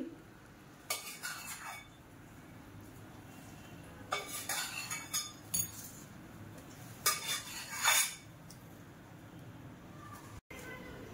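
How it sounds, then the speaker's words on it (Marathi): Hot tempering is poured over crispy poha chivda (flattened rice snack mix) and stirred with a spoon, producing bursts of scraping, rustling and light clinks separated by quiet pauses. "ही फोडणी आता आपण सगळ्या चिवड्यावर ओतून घेऊया अशी"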